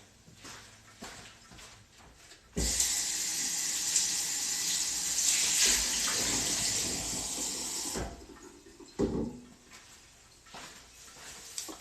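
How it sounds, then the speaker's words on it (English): A drink pours steadily into an oversized cup for about five seconds, a loud, close rushing stream that starts abruptly and stops just as suddenly, with quieter handling noises before and after. "You can never really get a perfect pour in this cup."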